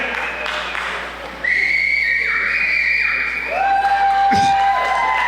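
Several shrill whistle blasts at varying pitches sound at a chamber of commerce coffee gathering, the tones overlapping and sliding over a noisy crowd background.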